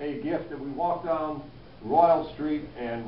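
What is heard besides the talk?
No distinct noise like a dog, phone or traffic.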